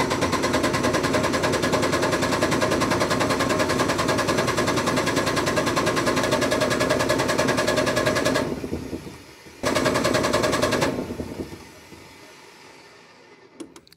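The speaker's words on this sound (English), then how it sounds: "Well, it's cranking. So I gotta figure out why it doesn't wanna start." An MEP 1040 generator engine cranks without starting. A loud, fast, even mechanical chugging runs for about eight seconds, cuts out briefly, resumes, then stops.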